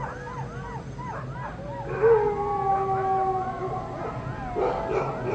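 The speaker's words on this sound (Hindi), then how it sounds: "दोबारा कुत्ते भौंक रहे हैं।" Dogs howl and bark in a forest at midnight, several wavering howls and yips carrying from a distance, continuous and fairly faint against a low background hum.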